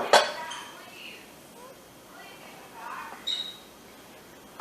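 Chunks of broken Bath & Body Works candle wax are dropped into a wax warmer, giving a few faint clinks and taps in a quiet room with soft speech.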